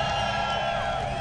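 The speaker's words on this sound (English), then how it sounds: "Crowd are being amped up for this one." A crowd cheers at the final race of the 2017 World Rallycross of South Africa, making a continuous, dense roar that holds steady and loud throughout.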